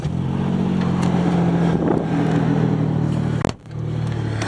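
A running vehicle with a weak, failing fuel pump gives off a steady close drone with a faint high whine on top, broken by a brief knock and dip near the end.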